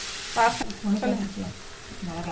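Masala sizzles and crackles as it is sautéed in a pan for Tamil-style pakoda kuzhambu, with short bursts of frying noise and a faint voice mixed in.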